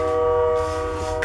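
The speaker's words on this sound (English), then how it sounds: "sorry about that train." A loud train sounds its horn in a sustained, steady blare over a rumbling roar, close by.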